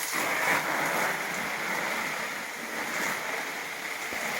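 Water is poured over potted plants, making a steady, moderately loud rushing and splashing that continues throughout.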